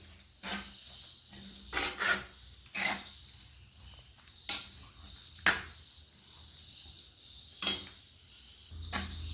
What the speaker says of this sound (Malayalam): ഇനി നമുക്കൊന്ന് മിക്സ് ചെയ്ത് കൊടുക്കാം.